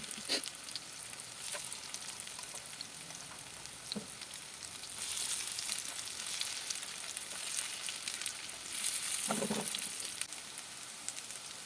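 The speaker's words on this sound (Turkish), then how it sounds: "Kızardığı zaman çeviriyoruz. İki tarafı da kızardığı zaman köftelerimiz pişmiş olacaktır." Green lentil köfte, a meatless patty, sizzle and crackle steadily in a frying pan, with a few louder spatters and a brief clatter as they are turned.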